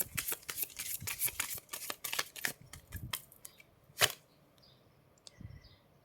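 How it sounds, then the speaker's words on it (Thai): Tarot cards being shuffled by hand: a quick run of crisp, papery riffles and snaps, loud and close, then a pause and a couple of final taps. "เดี๋ยวขอสับนิดนึงนะแป๊บนึง ขอสับนิดนึง"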